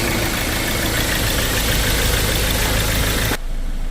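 A car engine, started with the starter wired directly, runs at a steady idle, loud and close with a constant rumbling drone, then abruptly cuts off near the end.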